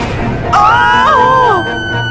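A woman's loud, wavering scream rises and bends for about a second, a dramatic sound effect in a Hindi horror story about a haunted well. It stands out over a low background bed.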